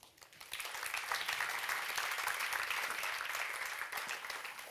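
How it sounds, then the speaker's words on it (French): An audience at an advertising awards ceremony breaks into sustained applause, a dense wash of clapping that swells quickly and holds steady. "Alors je vous prie d'applaudir Swissquote"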